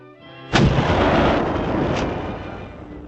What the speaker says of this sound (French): L'artillerie riposte.